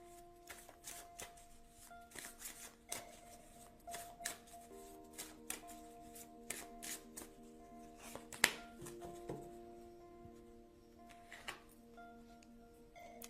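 Tarot cards shuffled for a reading, giving a steady run of soft riffling and flicking close by, with brief sharper snaps and a faint tonal hum underneath.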